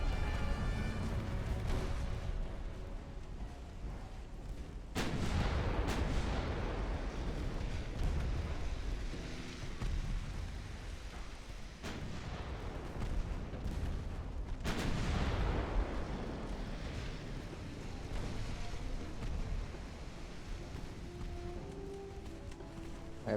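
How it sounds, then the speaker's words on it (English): Naval secondary guns fire repeatedly in Ultimate Admiral: Dreadnoughts against a light cruiser, heavy booming reports landing every few seconds with long rumbling decays, loud and continuous, no voices. "Secondary guns, take out that light cruiser"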